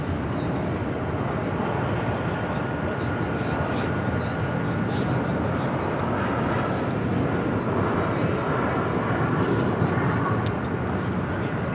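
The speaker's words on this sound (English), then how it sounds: "we got the Speedbird A380 Super heading up for a north side at takeoff" A British Airways Airbus A380 takes off at LAX, its engines producing a loud, steady, broadband roar that holds unbroken throughout.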